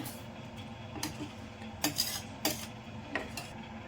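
Metal spoon scraping and clinking against a pot while buttermilk okra curry is stirred over a medium flame, a few sharp clinks standing out over soft bubbling and stirring noise.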